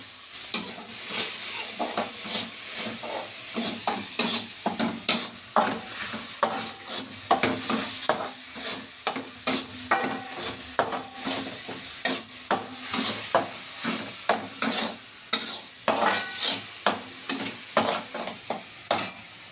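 Onion paste frying in oil, a constant sizzle under rhythmic scraping and stirring strokes of a spatula against the pan, close and fairly loud throughout.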